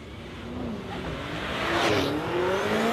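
A small BMW drag racing car at Warwick Dragway, its engine roaring steadily and rising in pitch as it accelerates away down the strip, loud and sustained with no talking.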